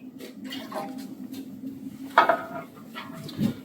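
Starchy pasta water splashing and sloshing into a pan for Bolognese sauce, with faint clinks of cookware, moderately quiet and uneven.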